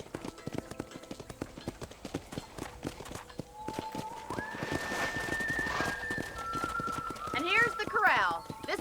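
Rhythmic clip-clop of horse hooves in the video game Red Dead Redemption runs throughout, joined by a horse's whinny near the end, with a faint musical tone drifting in the background.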